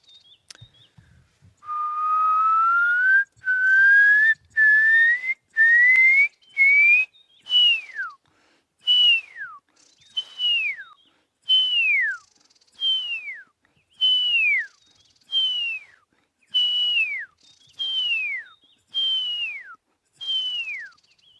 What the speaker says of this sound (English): all you can hear now are white-browed scrub robins